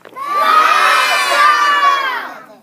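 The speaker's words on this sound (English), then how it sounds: "A bunch of noise. Everybody talk all at once." A group of children shout and yell all at once in a loud, sustained burst that lasts a couple of seconds before cutting off.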